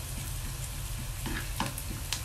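Garlic and ginger fry in a pan with a steady, loud sizzle, broken by a few stirring scrapes and clicks from a utensil.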